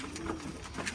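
Pigeons coo in soft, repeated low calls close by, layered over one another with a steady murmur of birds and outdoor ambience.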